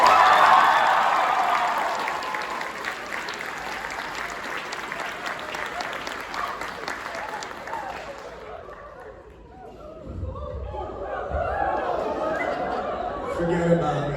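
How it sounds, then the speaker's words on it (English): A crowd at a high school marching band event gives a round of applause, loud sustained clapping with chatter and some laughter, fading midway before murmuring voices and renewed crowd noise rise again. "Why don't you give Juliana a round of applause?"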